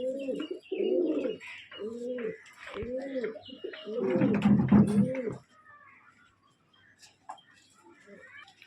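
Male Kalanka breed pigeon cooing close by in a rhythmic series of low rolling coos, with a louder burst midway, then fading to quiet handling noise.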